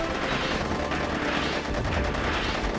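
Rocket tower firing in the tower-defense game Field Runners, a dense, continuous barrage of booming explosive shots that fills the whole stretch at steady loudness, with no talking.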